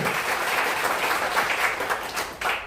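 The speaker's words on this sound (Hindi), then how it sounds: "मैं चाहूंगा एक बार जोरदार ताली पहले जरूर बजाऊं।" Seminar audience bursts into loud, dense applause, many hands clapping together in a steady roar that holds for a few seconds, close and full, with no voices over it.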